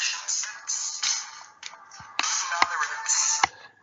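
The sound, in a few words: phone ringtone, the speaker's wife calling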